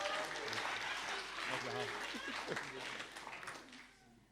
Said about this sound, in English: Can we just make a round of applause for this suit?